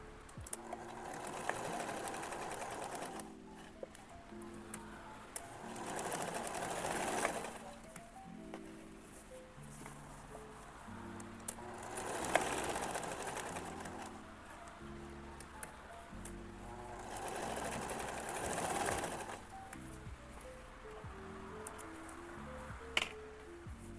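Sewing machine stitching denim lining onto milk cartons, running in several bursts of steady whirring with pauses between, up close with no voices.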